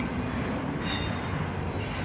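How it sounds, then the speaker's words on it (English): A long freight train rolls through a city on its tracks, a steady loud rumble with squealing wheels and continuous metallic grinding that fills the whole stretch without a break. "I hate it because it's not just one or two cars, it's a long train."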